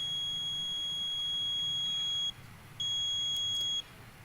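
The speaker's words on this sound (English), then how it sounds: "the buzzer is continuously producing the beep sound" An e-bike collision avoidance system's electronic buzzer sounds a long, steady high-pitched tone, stops briefly, then beeps again for about a second.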